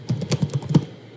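Rapid, uneven clatter of keys on a computer keyboard, close and fairly loud, with several sharp clicks in about a second and no one speaking.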